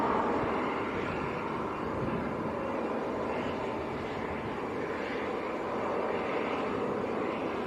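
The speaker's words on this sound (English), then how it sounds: "That light aircraft that's just arrived is actually one of the based aircraft here at Leeds." Light aircraft arriving at Leeds Bradford Airport, a steady broad engine drone that stays loud and constant throughout with wind noise on the microphone.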